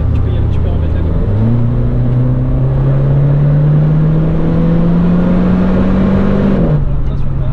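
Renault Clio 4 RS accelerating on the Nürburgring circuit, a loud in-car engine drone climbing steadily in pitch with a gear change, under an excited voice talking over it.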